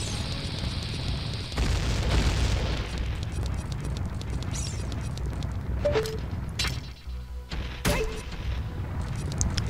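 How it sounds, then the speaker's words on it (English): Bombs go off in the Zelda Ocarina of Time video game, a loud booming blast followed by game effects and chimes, with a second burst later amid the steady background music. "I'll also bomb this open."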